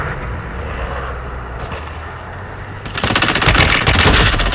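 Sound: gunfire in the video game Warzone Mobile

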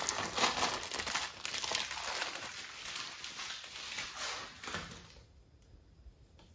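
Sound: opening a pack of plaster cloth

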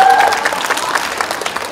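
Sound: audience applause at outdoor festival

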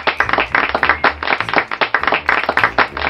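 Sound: children clapping

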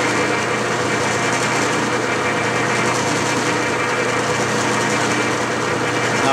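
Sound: metal lathe cutting an Acme thread

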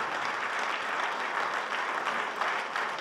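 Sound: audience applause

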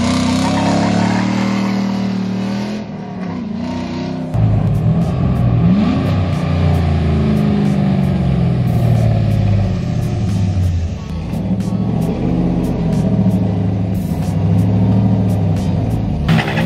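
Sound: truck engine running and revving

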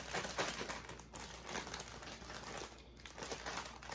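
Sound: plastic zip bag being shaken to bread crappie fish

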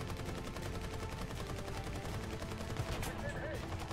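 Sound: tank machine gun firing in the video game War Thunder

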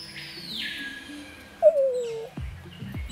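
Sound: peacock call

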